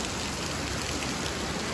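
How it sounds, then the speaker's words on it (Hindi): Steady, close rainfall spreads as a dense, even hiss of drops striking surfaces, continuous and unbroken with no voices over it. "बारिश हो रहा है"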